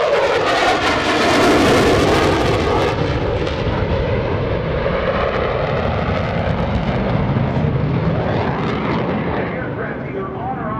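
F/A-18F Super Hornet jet making an afterburner pass at the 2017 NAS Oceana airshow: a very loud, roaring, crackling jet blast that sweeps overhead and then fades as it recedes.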